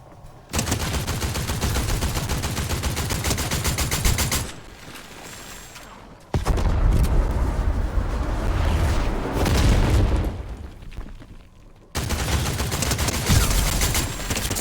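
Rapid video game gunfire in Fortnite: dense bursts of shots and booms in several loud stretches separated by quieter gaps, with no talk over them.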